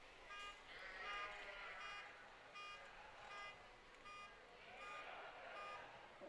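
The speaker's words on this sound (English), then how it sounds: "someone with a maroon Ford Expedition has their alarm going off at the moment" Car alarm of a maroon Ford Expedition going off at a county fair sheep show, repeated faint electronic beeps in a steady rhythm, distant, under a murmur of crowd noise.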